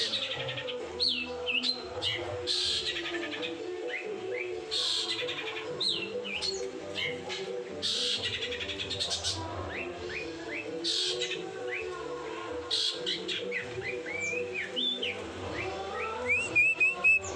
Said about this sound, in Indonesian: burung cendet ya, pentet.